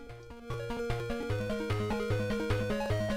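Sega Master System game music played on a Sega Genesis, a chiptune melody over a bouncing bass line, quiet at first then louder and steady, with no talking.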